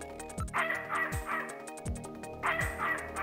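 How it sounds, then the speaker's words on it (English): A dog in the video game Snatcher barks in synthesized, sampled bursts, several sharp yaps in pairs over a looping electronic music bed with low descending tones. "I really am not very good with dogs"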